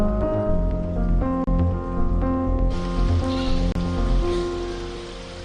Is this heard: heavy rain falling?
yes